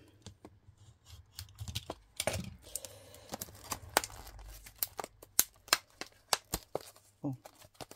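Packaging of mini pads is torn and crinkled open, a run of sharp ripping, crackling and snapping bursts at close range, with a voice speaking at times.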